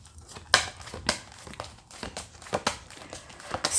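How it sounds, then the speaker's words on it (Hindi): Tarot cards are pulled out of a deck and handled, making irregular close crinkles, slides and soft taps in a loose rhythm, moderately quiet. "पहले सारे कार्ड्स निकाल दो।"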